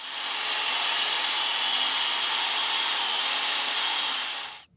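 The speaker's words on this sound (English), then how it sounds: "I got these really cool wire brushes that fit on a drill" A power drill spins a wire brush against the metal suspension parts of a 1995 Ford F150, a continuous harsh, bright whirring scrape that holds steady for several seconds and then stops abruptly.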